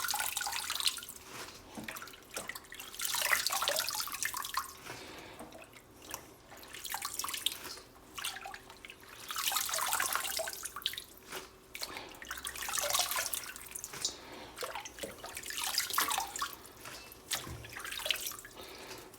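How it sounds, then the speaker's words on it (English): Tap water runs and splashes steadily into a sink already full of water while organic beet tops are washed, with repeated surges and drips, close and fairly loud, no talking. "It's going right back in a sink full of water."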